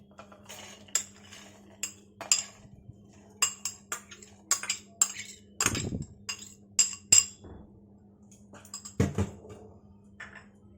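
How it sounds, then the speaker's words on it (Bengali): Dry green moong beans dropped into a metal mixer jar, a run of sharp small clinks and rattles in scattered bursts against a low steady hum. "আমি একটি মিক্সিং জার নিয়েছি, এর মধ্যে আমি দিয়ে দেব সবুজ মুগ"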